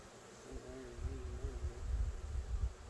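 Honeybees buzz low and close at a hive during a backyard inspection, a soft, steady hum that swells and wavers, with a faint tonal drone near the start.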